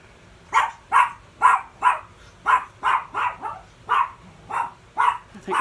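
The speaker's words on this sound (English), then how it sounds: "Y'all have to excuse the barking." A dog barks repeatedly and steadily, about a dozen loud, close barks in an even rhythm with no talking.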